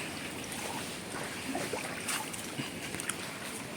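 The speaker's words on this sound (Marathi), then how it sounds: "ही आहे आपली बोट तर बोटीच्या दोरेही सोडण्यात येतील" A private boat on the water at Devbag, Malvan, with a steady broadband wash of water and wind and a few faint knocks and splashes, no voices.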